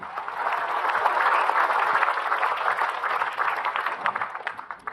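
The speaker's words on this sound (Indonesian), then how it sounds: "Tepuk tangan buat Kak Nabila." Applause from a studio audience at an Islamic religious television programme, a full burst of clapping that swells and then gradually thins toward the end.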